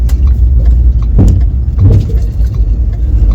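A log truck carrying heavy hardwood gives a loud, close engine rumble that stays steady, with a couple of heavier thumps and surges partway through.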